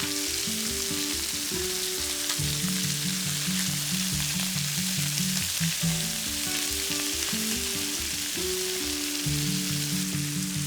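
Chicken pieces fry in a pan, crackling and spitting in a constant bright sizzle while a slow melody plays underneath, with no voice present.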